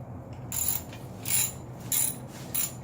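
An 8mm socket ratchet loosens a heat shield clamp during rear wheel removal: several short bursts of close, clicking ratchet strokes separated by brief pauses.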